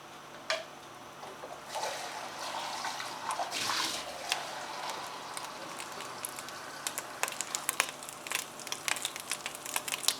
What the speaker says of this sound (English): Put some water into this thing here.